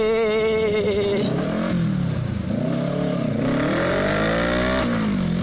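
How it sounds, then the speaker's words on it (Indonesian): Kawasaki 650cc motorcycle engine revving up and down in loud, continuous swells, the pitch rising and falling several times, close and clear with no talk over it. "pertama kali naik motor 650 cc"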